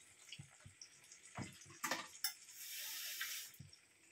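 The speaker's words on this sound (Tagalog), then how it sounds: "Dagdagan natin ng konting sabaw." Water poured into a pot of sautéed mung bean soup as broth, with soft clinks and splashes, then a steady pouring stream, heard quietly in a kitchen.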